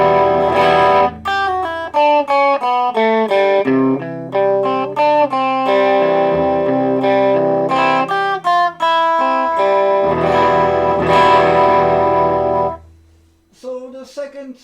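Clean electric guitar playing melodic single notes and chords, loud and up close, passed through a Behringer Vintage Tube Overdrive pedal switched off, with a brief pause and a few softer notes near the end.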